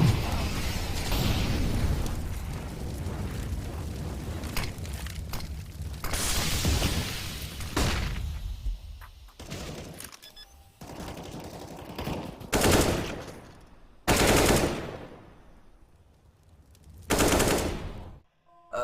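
Gunfire in a first-person shooter game: loud, close bursts of rapid automatic shots separated by short quiet gaps, with several sharp isolated blasts toward the end.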